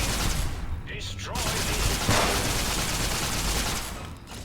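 Fallout 3 and New Vegas weapon fire: a loud, continuous barrage of rapid automatic shots with a short lull near the start, dense and close, one heavier blast midway.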